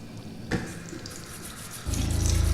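Water running from a tap in a bathroom in the Fahrenheit video game as a character washes off blood, starting with a thump and swelling into a steady louder gush near the end.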